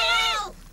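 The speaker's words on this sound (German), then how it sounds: "Eine blöde Katze da." A cat gives a single clear, high-pitched meow up close, bright and tonal, which bends downward and fades out within a second.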